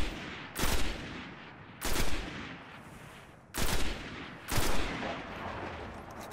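Four loud, evenly spaced bursts of weapon fire in Destiny, aimed at an enemy's glowing eye on Mars, each a heavy blast with a lingering rumble fading before the next.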